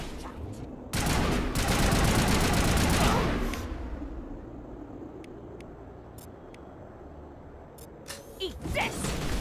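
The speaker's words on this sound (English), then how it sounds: "Missile deployed." Missile launch and a dense burst of gunfire in the video game Mass Effect: a loud, sustained roar of shots and blasts, then a quieter stretch with scattered sharp impacts and a renewed flurry near the end.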